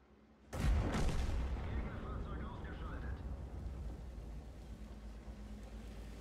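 A single heavy tank gun shot from an IS-7 in World of Tanks booms out close and loud, then trails into a long rumbling decay under engine noise.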